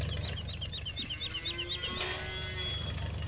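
Cattle mooing in the farming game Farming Simulator 19, a single drawn-out low moo standing out over a steady farmyard ambience with faint chirping above it.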